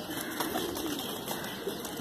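Allahabadi Kaldum pigeon, a breed with a black-feathered chest, cooing in a steady low murmur alongside other birds, close by with no talk.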